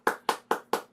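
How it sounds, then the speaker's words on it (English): Four evenly spaced sharp hand claps from a single nearby person, quick and rhythmic with clean silence between each, applauding panelists at an online expert event. "Can we get a round of applause for our panelists?"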